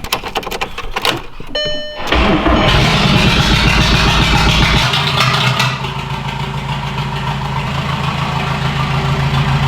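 A car engine turns over and settles into a loud, steady idle with a low continuous rumble and hum, close by outdoors in snow, without voices.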